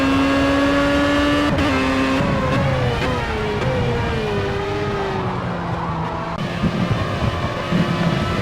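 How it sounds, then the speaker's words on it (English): Race cars in Project CARS roar past on the main straight at Spa-Francorchamps, loud engines droning and shifting pitch as several pass in close succession, with no talk over them. "As we have cars coming by in numbers here on the main straight"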